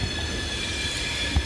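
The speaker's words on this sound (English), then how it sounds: "So you've got the loaded coal train passing in the background." A loaded CSX coal train rumbles past in the background in Grafton, West Virginia, giving a low continuous rolling drone with faint squeal overtones and no voices.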